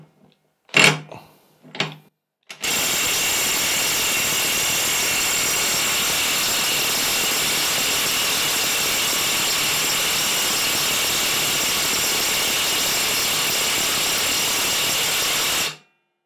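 A Parkside PASSK 20 Li cordless 20V impact wrench, 400 Nm with a 1/2-inch drive, gives two short clicks and bursts, then runs continuously for about thirteen seconds with a loud, even, high-pitched whine and hammering buzz before stopping abruptly.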